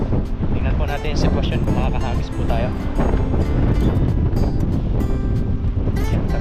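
Wind rushes steadily across open sea around a small fishing boat, a constant broadband roar with someone talking over it throughout.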